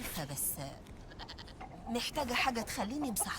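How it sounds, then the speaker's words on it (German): A goat in the video game Indiana Jones and the Great Circle lets out several wavering bleats, some short and some drawn out, with game voices speaking around and between the calls. "Ah, die Ziege redet mit mir."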